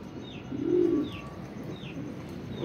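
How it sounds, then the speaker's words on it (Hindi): Homing pigeons coo softly nearby, with a low throaty coo and a few faint chirps in a quiet outdoor setting. "माशाल्लाह बहुत तगड़े कबूतर हैं"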